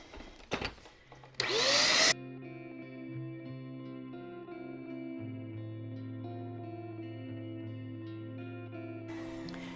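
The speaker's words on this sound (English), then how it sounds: "I just have an attachment on my upright vacuum" An upright vacuum cleaner with an attachment starts with a brief loud rush of suction, then settles into a steady droning hum close by, cleaning a filter, with no talking.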